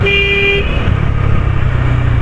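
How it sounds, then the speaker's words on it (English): A loud, steady motorcycle horn on a Bajaj Dominar 250 cruiser blares for about half a second, followed by the rumbling idle of the engine. "The horn is also very nice, it is very much loud"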